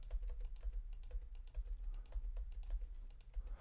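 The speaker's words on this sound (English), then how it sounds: "now I'm able to type into that content" Rapid clicking of computer keyboard keys while typing into editable web page content, a brisk close run of keystrokes with uneven rhythm and no voices.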